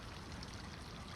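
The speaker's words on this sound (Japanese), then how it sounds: "水の音がしてるの関係ある？" Running water in the horror game The Night Guard, set at night in a terminal station, a faint continuous trickling stream with no other sounds.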